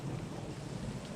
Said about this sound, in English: Oh, and we have some cozy rain to, keep us inside curled up.